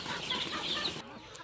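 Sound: chicken clucking

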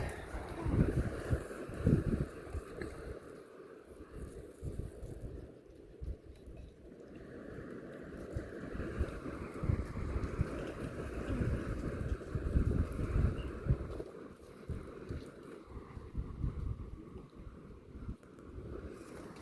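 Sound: wind

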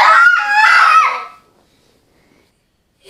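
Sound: seagulls calling

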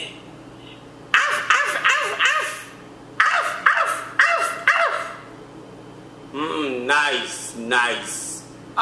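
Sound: person imitating a small dog barking

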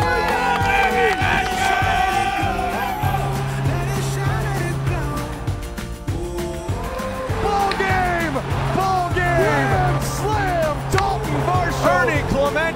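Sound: baseball fans cheering at Rogers Centre stadium

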